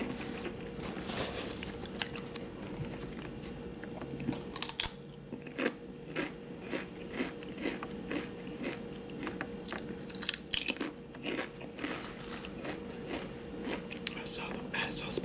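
Close, quiet crunching and wet chewing as someone bites into a vinegar-soaked hot pepper in an ASMR eating session, with irregular bites and soft mouth sounds throughout.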